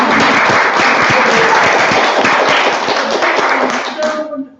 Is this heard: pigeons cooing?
no